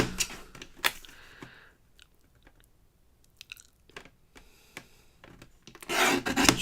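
A trimmer works through a piece of paper card, giving a series of sharp cutting clicks and scraping rubs that come close and fairly quiet, ending with a louder rasping burst.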